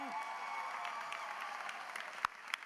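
A graduation audience applauds steadily at a moderate distance, with a dense patter of many hands that continues evenly and ends with a couple of sharper louder claps.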